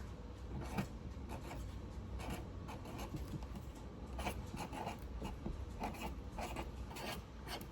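Pen handwriting on a small paper label at a crochet studio table, a quiet steady scratching of strokes with short rubbing bursts, close and faint, no voices.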